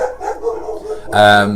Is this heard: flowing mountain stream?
no